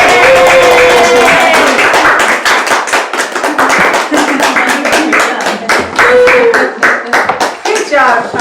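Classroom audience claps loudly after a student's self-concept bag speech, a dense burst of hand claps running steadily through the whole stretch with a few voices talking over it.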